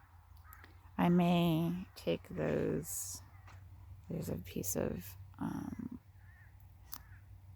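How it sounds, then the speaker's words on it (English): Crows caw loudly nearby in a few harsh bursts, with someone talking intermittently in between. "There are a lot of crows."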